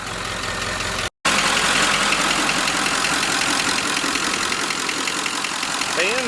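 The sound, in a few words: engine running with radiator fan blowing, 1946 Ford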